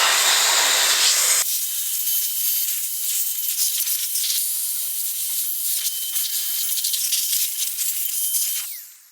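A Meco Dust Buster electric air duster with a skinny nozzle blows dust out of an old computer, giving a loud, steady hissing rush with a faint whine that runs for about seven seconds before cutting off.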